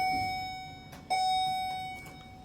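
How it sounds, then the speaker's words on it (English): A clear electronic elevator arrival chime rings out, sustained and steady, with a second bright ding cutting in partway through over a faint hum of background noise, at Schumacher traction elevators in a Rochester, Minnesota hotel. "Kind of strange how these two elevators have different bells."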